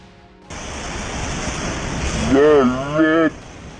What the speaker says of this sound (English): Have you ever been unexpectedly hit by ocean waves during a trip?